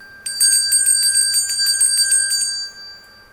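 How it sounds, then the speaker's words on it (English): A small hand bell rings rapidly and continuously for about two and a half seconds, clear and close, then stops, with no voices. "They even gave him a special bell to ring if he was nervous."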